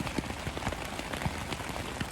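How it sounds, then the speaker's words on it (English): Rain falls steadily at night on a stealth campsite behind a car dealership, a dense continuous patter with scattered drops hitting nearby surfaces, heard alone. "here we are. Lots of rain"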